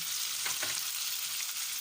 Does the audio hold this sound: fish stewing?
yes